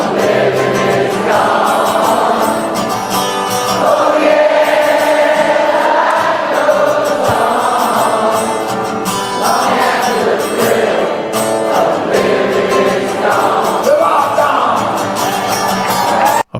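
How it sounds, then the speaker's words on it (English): A loud concert crowd sings a song in unison, a sustained roar of massed voices with whoops and yells riding over it. "He lets the crowd sing it because he just doesn't want to sing it."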